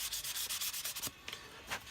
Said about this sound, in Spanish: le vamos a pegar una lijada mínima